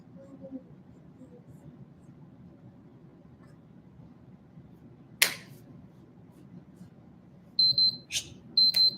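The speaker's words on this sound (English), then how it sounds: "It's just a timer." A timer alarm goes off at a live healing gathering in Palm Springs, giving a burst of rapid, high, electronic beeps near the end after a sharp knock, over a low murmur of room noise.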